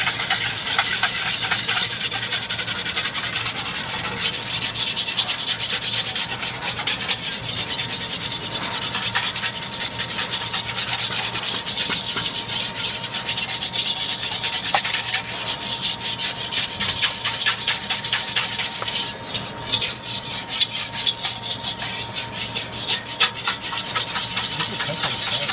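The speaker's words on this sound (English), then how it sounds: "And now I'm gonna whisk it until the yeast dissolves." A whisk scrapes rapidly around a bowl to dissolve active dry yeast in liquid, a close, continuous, brisk scratching with fine rhythmic strokes throughout and no talking.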